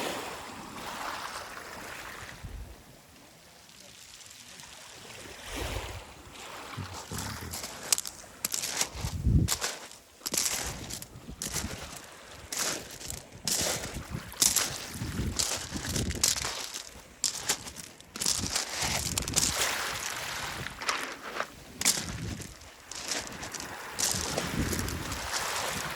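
Sea waves washing over a pebble beach on the Korean coast, a rolling rush with gritty rattling of stones, mixed with wind buffeting the microphone and occasional crunching steps.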